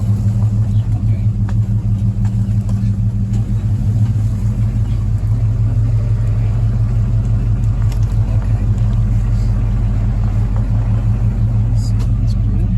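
A pickup truck creeps slowly out of a very tight spot, its engine a steady low rumble throughout with faint mechanical clatter, and voices talk over the running motor.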